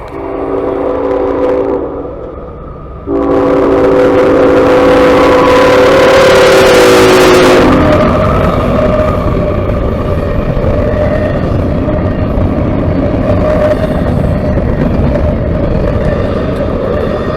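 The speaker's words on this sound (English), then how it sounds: "There's something about the sound of a train when it's passing." A CSX train horn sounds in two chords, then a heavy CSX freight train rumbles past loudly and steadily, its roar filling the rest of the clip.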